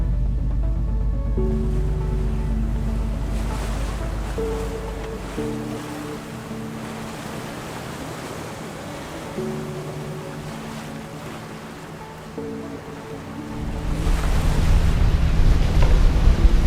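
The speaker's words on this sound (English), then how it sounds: "It's a bit bumpy seas out here, as you can see." Choppy sea off the inner coast of Norway washes and slaps around a small sailboat heading for Kvitsøy, with wind buffeting the microphone loudly at the start and end and a steady hum beneath, no voices.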